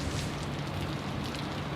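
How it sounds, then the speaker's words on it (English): Steady rain sweeping across the Sydney Airport airfield at night, a dense continuous hiss of falling drops with no breaks, heard alone without voices. "Still plenty of rain sweeping across the airfield as we speak."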